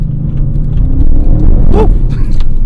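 A 2022 Audi RS7 drops a gear and accelerates hard, its engine rumbling loudly and rising in pitch up close from inside the car, with a brief voice exclamation near the end.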